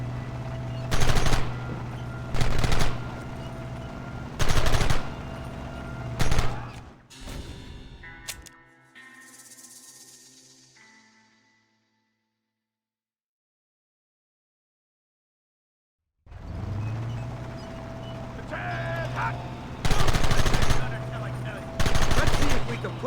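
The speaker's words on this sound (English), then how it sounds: "Marston! Why the hell are you shooting?" Gunfire in the Red Dead Redemption video game, loud, close rifle shots in separate heavy bursts at a steady pace, then fading away into a long silence before more shots resume near the end.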